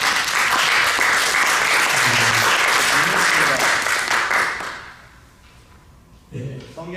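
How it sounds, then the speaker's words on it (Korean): A room of listeners breaks into applause during a talk on the Good Samaritan. The clapping is loud and dense for about five seconds, then fades to near quiet before a voice speaks briefly. "박수."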